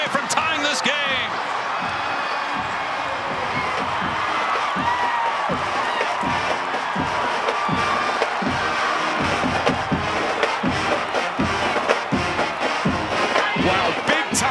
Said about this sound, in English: this crowd absolutely loving it as they come alive